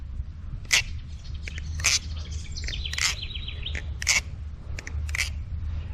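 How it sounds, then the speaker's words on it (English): Quick metallic clicks and clacks in uneven bursts, a light rattling flip of a freshly oiled balisong knife repeated several times over a low steady background hum. "That is the sound that you want your balisong to be sounding like, that much deeper, richer sound."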